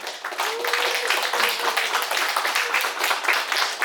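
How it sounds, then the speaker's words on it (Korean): Audience applause at a community garden award ceremony in Korea, dense steady clapping filling the room at moderate loudness, with a faint voice under it. "큰 박수 부탁드릴게요"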